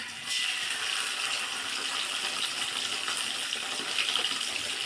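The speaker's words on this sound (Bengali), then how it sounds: "একটুখানি জল দিয়ে এবার এটা দিয়ে দেবো" Water pours steadily into a curry pan holding spiced fish and radish curry with ground coriander, ginger and red chilli, a continuous splashing rush lasting throughout, close and fairly loud with no talk.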